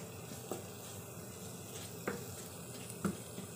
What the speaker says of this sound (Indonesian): Ini lagi ngangsa bumbunya yang tadi udah dihaluskan.